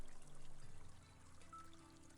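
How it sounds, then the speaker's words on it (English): Running spring water in a video game pours in a steady, soft, continuous trickle with no talk over it. "Good, the water is running."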